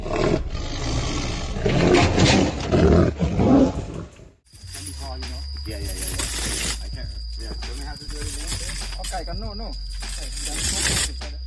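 A tiger gives a deep, rumbling roar as it is released into the forest. The roar is loud and close, and then fainter breathy sounds and a steady background take over.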